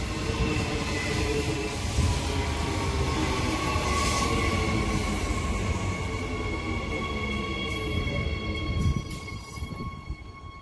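Queensland Rail electric multiple-unit train departing Taringa station: a loud steady rumble of wheels and motors with a rising whine and metallic squeal, close by and continuous.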